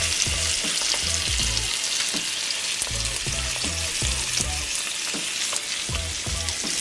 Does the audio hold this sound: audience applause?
no